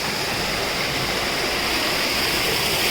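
Yanai Kasam waterfall near Theni, a steady, dense rush of falling water that roars evenly and continuously throughout, with no voices.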